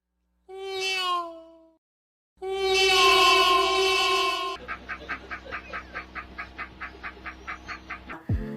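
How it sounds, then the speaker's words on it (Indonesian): Two drawn-out, high harmonic cries, the second louder and longer, followed by a fast run of short rhythmic pulses; the cries resemble a cat meowing. "Suara kucing meong-meong."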